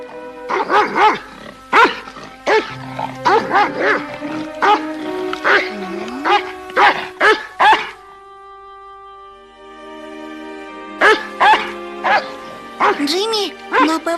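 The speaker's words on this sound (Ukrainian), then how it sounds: "Собака кличе нас за собою." A dog in an animated series scene gives repeated sharp barks and yips amid frequent voices, with a sustained musical tone filling a quieter gap midway.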